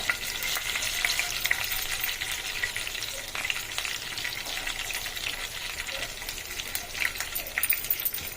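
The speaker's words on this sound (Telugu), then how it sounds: "కొంచెం ఆయిల్ వేసిన, కొంచెం ఆవాలు, కొంచెం జీలకర్ర" Mustard seeds and cumin frying in hot oil for an eggplant masala curry, a dense continuous sizzle with faint crackling pops, close and steady throughout with no voices.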